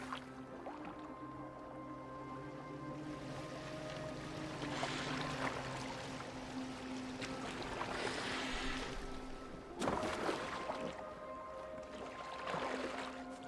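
A boat moving through water in Assassin's Creed Valhalla, with soft swishing and lapping splashes that swell in a few waves, some louder sloshes near the end, all under a steady ambient drone.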